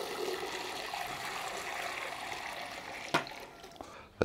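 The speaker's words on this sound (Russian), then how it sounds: "Заливаем холодной водой и ставим на печь." Cold water pours steadily into a cauldron pot for fish soup over a campfire, with a rushing, splashing sound, ending in a brief clank and a few drips.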